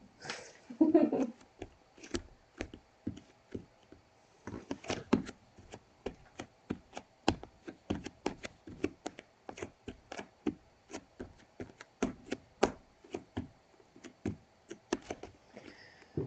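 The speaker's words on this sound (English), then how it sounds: "Depends, do you want light toe taps? Loud toe taps? Faster? Slow?" Light toe taps from bare or sock-covered feet on a hard surface, a steady series of close, crisp little knocks. The taps vary in strength and spacing and no one speaks over them.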